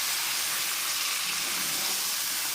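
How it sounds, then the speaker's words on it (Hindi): Onion frying in hot oil for a restaurant-style chicken handi, giving a steady, dense sizzle with a close, even hiss throughout and no speech. "ऑयल काफ़ी गर्म है, थोड़ा सा प्याज के साथ।"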